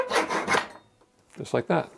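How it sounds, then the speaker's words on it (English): Hand saw cutting wood during repair of an antique chair: a few raspy back-and-forth strokes up close, a brief pause, then three shorter strokes, with a few words spoken. "then it's just a matter of holding everything in place and running the saw"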